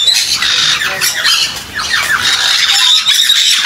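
Several birds squawk and screech continuously, loud and close, with overlapping shrill calls and no talking.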